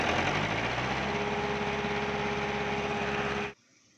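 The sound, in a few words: JCB engine idling while warming up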